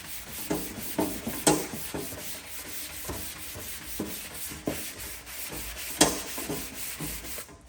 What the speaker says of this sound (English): So I'm just starting to sand through there now, so we'll stop.